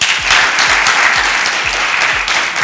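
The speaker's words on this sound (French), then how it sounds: "on va commencer par applaudir Aude Cabré" An audience at a live café-style talk show claps for Aude Cabré, a dense, continuous round of applause heard alone throughout.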